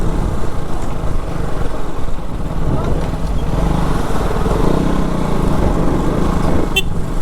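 A KTM RC 200 motorcycle engine drones steadily and loudly while riding, with continuous road and wind noise and no clear pauses.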